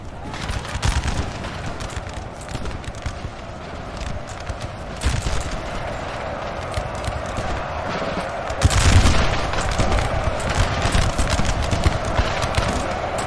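Massed musket volleys from a large Napoleon Total War line battle, a dense ongoing crackle of distant shots with a louder burst of fire midway, alongside a steady rumble of battlefield noise.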